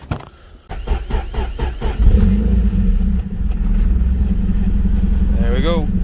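A Nissan S13 240SX with a leaking exhaust idles and creeps into a garage, a steady rumbling drone with some throttle blips at the start, close and fairly loud throughout.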